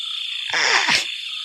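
Frog croaking near a pond at night, a single loud rasping burst of croaks over a steady high insect-like drone, fairly close.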